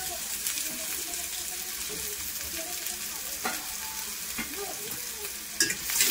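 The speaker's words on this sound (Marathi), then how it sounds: "तेलामध्ये थोडी अशी फ्राय झाली की त्यात बटाटे टाकून घेऊया" Potatoes and turmeric go into hot oil with reddened onions, and a steady broadband sizzle of frying runs throughout, broken by occasional clinks and scrapes of stirring in the pan, with a faint voice murmuring in the background.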